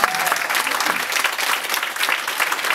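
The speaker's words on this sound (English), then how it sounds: "Give everyone a round of applause." Audience applause at a live comedy and talent show, steady, dense clapping that carries evenly and loudly through the whole stretch with crowd noise mixed in.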